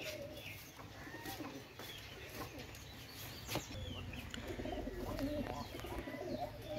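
Teddy and Kachuri pigeons coo softly and repeatedly amid a steady hum of ambient noise, the low throaty calls overlapping at close range with occasional faint chirps.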